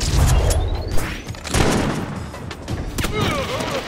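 Shotgun blasts in the Bourne Conspiracy video game, heavy booms with crashing impacts spread over a few seconds among other combat noise, with a voice now and then.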